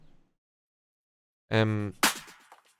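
A single sharp, snappy clap rings out right after a short tonal synth note, with silence before both.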